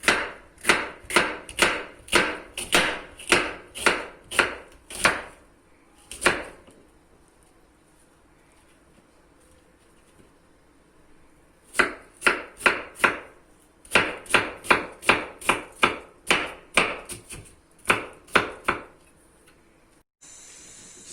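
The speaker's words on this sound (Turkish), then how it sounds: "Şimdi burada sebzelerimizi doğrayacağım." Rapid rhythmic knife chops of onions on a cutting board come in bursts, pausing briefly between runs, crisp and close with no voices.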